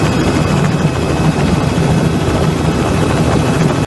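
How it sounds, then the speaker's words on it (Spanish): A helicopter over Reynosa, Tamaulipas drones with its rotor and engine in a loud, continuous roar, heard close up, until the sound cuts off abruptly. "Lo que acabas de ver es precisamente un pequeño clip grabado desde ese helicóptero"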